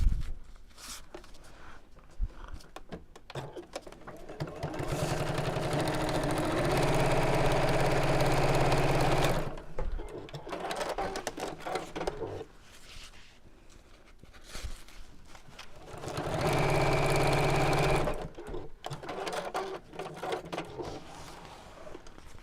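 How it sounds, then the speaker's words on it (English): A sewing machine top stitches close to the edge of a box pleat cosmetic pouch, running in two sustained loud whirring bursts separated by quieter handling noises and pauses. "we're just going to top stitch very close to the edge"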